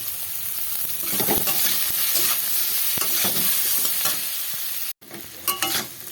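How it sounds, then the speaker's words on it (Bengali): Chopped green chilli and ginger fry in a pan for chira pulao, a steady close sizzle broken by stirring scrapes for about five seconds, then a brief pause and a few louder spatula clatters. "দিয়ে দিলাম এবার দিয়ে এটা ভালো করে ভেজে নেবো"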